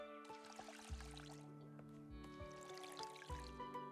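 Faint watering of plants in the video game A New Leaf: Memories, with soft dripping and trickling splashes in a few short bursts over game background music.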